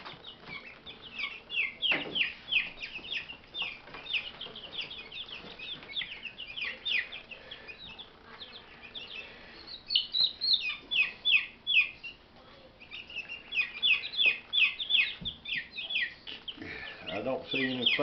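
Three-week-old chicks, including an Australorp hen, peep and cheep in rapid high clusters close by, with a few brief flutters and pauses between the bursts.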